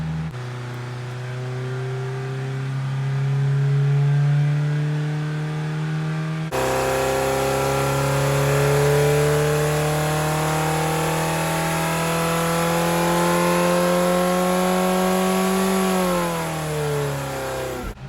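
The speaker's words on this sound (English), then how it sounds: "I'm just going to make a couple of short part throttle runs just to warm it up a little" Ford Pinto engine with a 32/36 carburettor revving on a dyno during short part-throttle warm-up runs, a loud, close, continuous mid-pitched engine drone that steps up in intensity partway through and rises and falls in pitch with the throttle.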